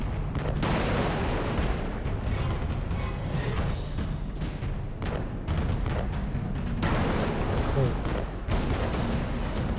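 Cannon crabs fire their cannons in Alice: Madness Returns, a barrage of heavy, booming blasts that repeats in rapid bursts over continuous rumbling noise, loud and close.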